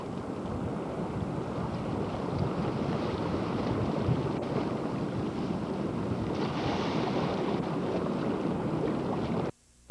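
Steady rushing of water and wind against a sailboat moving through ocean waves, a continuous broad wash with no voices, cutting off abruptly at the end.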